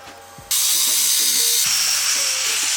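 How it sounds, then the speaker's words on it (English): A power grinder bites into metal parts for a 72V electric mini ATV, starting with a sudden loud hiss of abrasive noise that holds steady after a few faint mechanical clicks. "constantly grinding, sanding things down, making them look nice"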